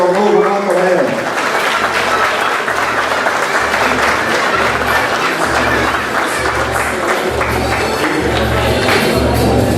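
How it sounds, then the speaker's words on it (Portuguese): Audience applause at a 95th-anniversary ceremony for Avaí Futebol Clube, honoring the club's athletes: dense, sustained clapping fills the room for the full stretch, loud and steady with faint voices mixed in. "Uma salva de palmas aos nossos atletas e ao novo Marco Aurélio"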